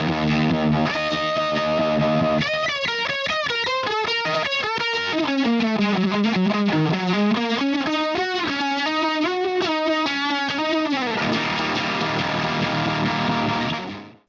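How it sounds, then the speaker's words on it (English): UniVibe guitar effect pedal on a distorted electric guitar, its pulsing, wobbling modulation sweeping loudly through sustained chords and a melodic line, steady for most of the passage before the tone cuts off at the end. "I needed a pristine recording of the UniVibe's pulse"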